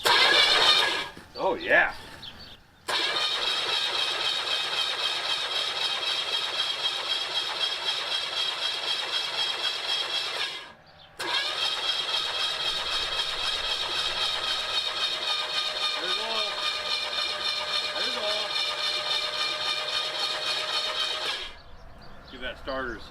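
An abandoned Pontiac 400 V8 with no ignition hooked up, cranking loudly on its starter in two long steady runs broken by short pauses, with a brief voice heard near the start.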